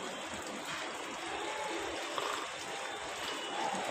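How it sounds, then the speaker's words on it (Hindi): Water flowing steadily into an LG 8 kg smart inverter washing machine after its inlet filter was cleaned, a quiet continuous stream and trickle with no break. "अभी जल्दी पानी भरे, जल्दी चालू होएगा।"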